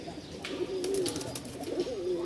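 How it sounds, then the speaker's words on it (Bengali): A pair of domestic pigeons, a male and a female, coo with soft, rolling low calls at close range, repeating in two phrases over a quiet background with no talking. "দুই পিচ কবুতর দেখতে পাচ্ছেন"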